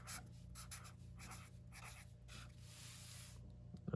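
Marker or pen writing on a paper color wheel chart, soft repeated scratchy strokes in short bursts, close and quiet against a faint background hum.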